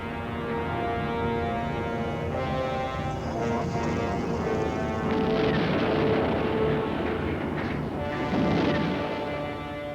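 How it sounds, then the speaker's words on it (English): Heavy, rumbling blasts and booming crashes from Soviet aircraft bombing Afghan villages, loud and sustained with swelling impacts and no talk over them. "Throughout Afghanistan, Soviet aircraft were now bombing indiscriminately."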